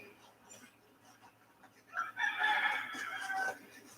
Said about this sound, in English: There are roosters all over this island